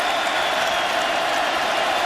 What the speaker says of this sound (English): Crowd getting louder.